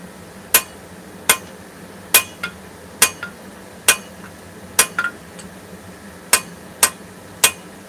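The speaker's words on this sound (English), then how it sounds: "Not really what you would call forging, I'm planishing" A hammer planishes a sword blade at a forge, striking about a dozen sharp, ringing metallic blows at an uneven pace, each one clear and close with brief gaps of quiet between them.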